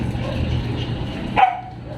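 A dog gives a single short bark close by near the end, after a stretch of low, steady background noise.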